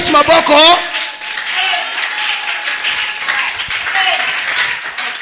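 A church congregation claps and cheers together during a sermon, a loud burst at the start settling into steady, sustained applause with voices mixed in.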